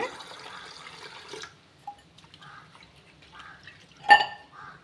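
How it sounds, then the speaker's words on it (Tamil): Moong dal and other lentils are washed in water in a home kitchen: a soft swishing at first, then sparse drips and small splashes, with one sharper splash near the end, all close and quiet. "இது எல்லாத்தையுமே தண்ணி ஊற்றி நல்லா ரெண்டு மூணு தடவை கழுவிடுங்க"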